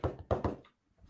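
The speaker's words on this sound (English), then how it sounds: "Somebody's knocking on the door." A door-knocking sound effect plays on a comedy podcast: a few quick, solid knocks in a short burst, close and clear, then silence.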